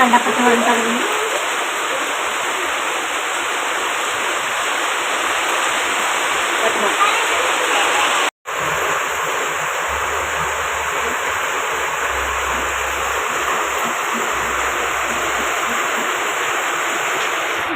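Steady, dense hiss of rain falling continuously, loud and close, with a brief dropout midway and faint low rumbles underneath.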